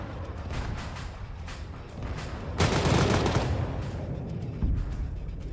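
An aircraft gun run in Arma 3 set in 1970s Cold War operations: a loud, dense roar of rapid gunfire erupts and sustains for over a second, then a distant thud, over lighter scattered shots.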